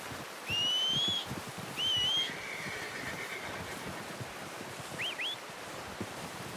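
Two high, thin whinnies from a horse in Red Dead Redemption 2 over steady wind and surf-like ambience, followed later by a short, faint squeal.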